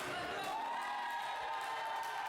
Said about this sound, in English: this sold out crowd here in Medina cheering for the EWI Initiative Champion